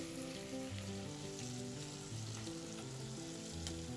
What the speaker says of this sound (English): And now put the bacon in the hot skillet.